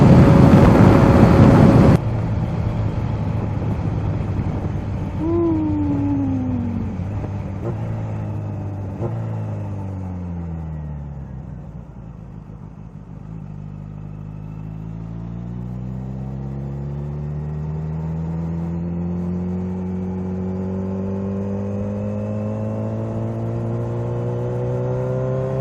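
A Kawasaki ZH2 supercharged motorcycle accelerating through the gears, its engine pitch sweeping upward repeatedly with brief gaps at each shift, fairly loud with steady wind rush and no talking.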